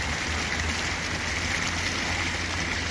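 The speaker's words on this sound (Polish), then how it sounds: "Wodospadowa fontanna." A small waterfall fountain in a city, with leaves floating on the pool, splashes and trickles in a steady, continuous rush of water with no pauses and no voices.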